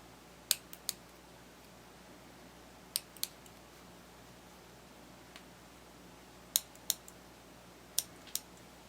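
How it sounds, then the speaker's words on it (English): Scissors snipping a small hole in plush fabric for a bunny toy's eye, heard as a few crisp paired snips at intervals against quiet room tone. "go ahead and cut a little hole where the eyes are marked"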